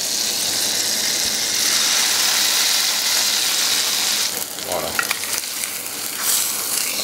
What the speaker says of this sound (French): Un peu de beurre. Vous voyez, quand il mousse comme ça, on peut mettre le poisson.